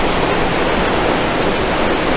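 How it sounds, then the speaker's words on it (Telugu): Water gushes through the open gates of Pinnapuram Dam in a loud, steady roaring rush that fills the sound without pause. "वाटर फुल गा फ्लो अवुतुन्नायि चूडंडि"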